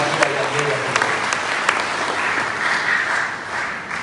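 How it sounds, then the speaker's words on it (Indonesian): A church congregation applauds loudly during a worship service, dense sustained clapping with a few sharper claps standing out, continuous from start to finish. "Beri tepukan tangan dulu yang gemuruh buat Tuhan kita yang hebat."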